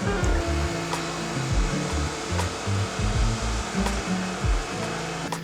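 A robot vacuum cleaner works across a home floor, giving off a steady, fairly loud whirring motor drone with shifting low rumble as it moves, continuous and alone.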